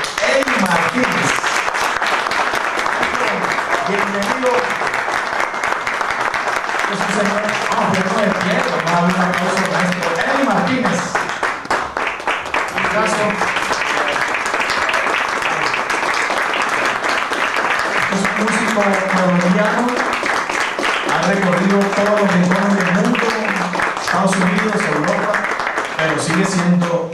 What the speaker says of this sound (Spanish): vamos a darle un fuerte aplauso de bienvenida al maestro Eddy Martínez.